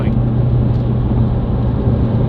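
A tuned 500 bhp Audi TT RS pulls hard, heard from inside as a loud, steady, low engine drone with road noise, continuous and unbroken.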